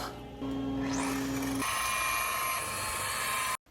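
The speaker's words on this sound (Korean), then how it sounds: "샌딩기로 먼저 날카로운 유리 섬유를 갈아냅니다." Power sander grinding sharp fiberglass off a wooden surfboard, a steady whine that rises as the motor spins up and then holds a sustained buzzing drone before cutting off abruptly.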